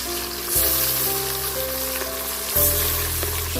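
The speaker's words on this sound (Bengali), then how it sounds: "মাছ 2 পাশ হালকা ভেজে নেব।" Small hilsa fish fry in hot oil, giving a loud, dense, steady sizzle close by, with two sharper bursts where the pieces shift or are added.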